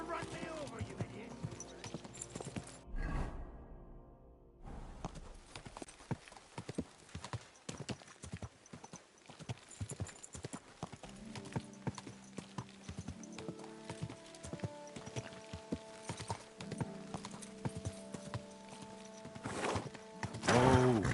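Steady clip-clopping of horse hooves in the video game Kingdom Come: Deliverance plods along with occasional whinnies and game effects, while a person talks intermittently over it.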